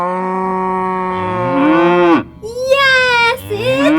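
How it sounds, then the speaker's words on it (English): A cow moos loudly up close in two long, drawn-out calls, the first rising and swelling, the second higher and shorter after a brief pause. "Yes, it's a cow."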